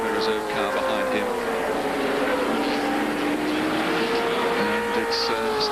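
V8 touring race cars, including a Camaro and a Falcon, racing at Amaroo Park in 1982, a sustained droning engine note rising and falling slightly as the cars pass at a distance.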